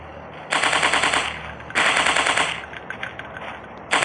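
Rapid automatic gunfire from a 3D dinosaur hunting simulator game on Android rattles out in two loud, sustained bursts about a second long each, followed by a few scattered shots and the start of another burst.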